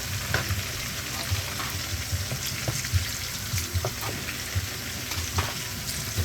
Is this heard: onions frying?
yes